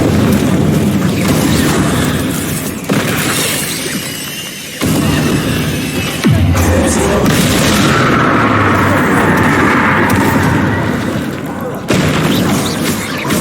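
Confringo explosion spells in the Hogwarts Legacy video game, loud booming blasts and crashing impacts layered with spell effects and continuous combat noise, with voices shouting through the fight.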